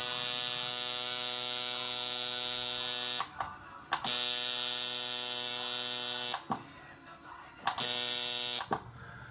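An electric tattoo machine buzzes loudly and steadily with a strong hum, cutting out three times for brief gaps before starting again, close up and with no talking.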